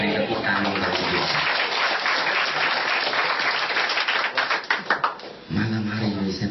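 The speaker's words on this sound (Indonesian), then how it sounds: "Beri tepuk tangan bagi Tuhan." Church congregation clapping together, a loud sustained wave of applause that fades into a few scattered claps before music resumes, with a voice briefly heard.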